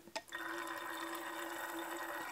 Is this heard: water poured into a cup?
yes